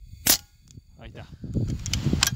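Single sharp gunshot fired at night while hunting vizcacha, a loud crack near the start that falls away, followed by faint movement and low background noise.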